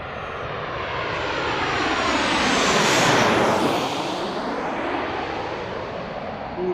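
Southwest airliner arriving over Gravelly Point on approach to DCA airport, jet engine roar building to a loud close overhead pass with a sweeping Doppler pitch drop, then fading away, no talk.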